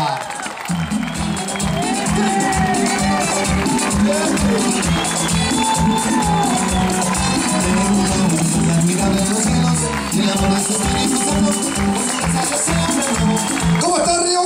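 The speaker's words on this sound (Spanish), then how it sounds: "Señoras y señores, Río Bueno recibe con este aplauso el humor de Bombo Frica" A crowd at an outdoor summer comedy show in Río Bueno greets a comedian with loud, sustained clapping and cheering for about fourteen seconds, with voices and some rhythmic beats mixed in.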